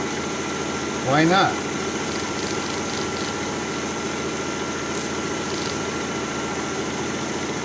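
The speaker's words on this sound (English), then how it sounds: "I'm going to turn it up to about 1500 RPM" A wood lathe spins a craft piece at about 1500 RPM, giving a steady, even motor hum throughout; a person briefly speaks near the start.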